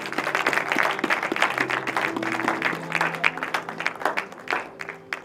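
A church congregation claps and acclaims, with hand claps ringing out over a swell of crowd voices and shouts of praise. A sustained, lively burst that rises and falls for several seconds.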